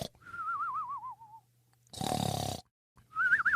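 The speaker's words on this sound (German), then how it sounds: "Lautes Schnarchen" A man snoring loudly: a harsh rasping inhale burst sits between whistled wavering tones, with a second whistle starting at the end.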